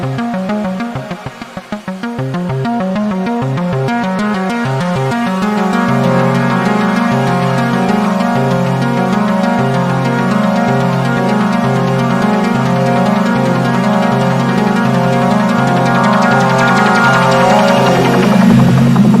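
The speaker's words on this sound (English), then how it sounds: "I obviously have some reverb going on it, but yeah, that sounds really good." A sustained synthesizer tone shifts through pulsing, stepping patterns and swells, washed in reverb, playing alone and growing fuller as it goes.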